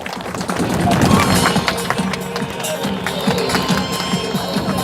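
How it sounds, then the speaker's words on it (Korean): Large outdoor crowd clapping and cheering at a reservoir's first water-release ceremony, a sustained dense wash of applause with voices mixed in throughout. "모두 함께 다시 큰 박수 부탁드리겠습니다."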